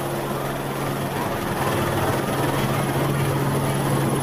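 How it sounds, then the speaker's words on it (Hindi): A helicopter showering flowers over pilgrims at the Kartik Ganga bathing fair gives a steady, loud rotor and engine drone. It holds evenly throughout with no break. "श्रद्धालुओं पर हेलीकॉप्टर से फूलों की बारिश की गई है।"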